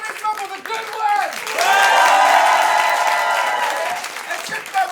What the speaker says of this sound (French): Vos applaudissements pour The Good One?